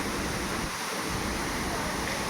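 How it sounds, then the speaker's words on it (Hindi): Steady broadband roar of a waterfall in Dehradun, continuous and fairly loud throughout, with a brief low rumble like wind buffeting near the middle. "Waterfall, look at the waterfall guys."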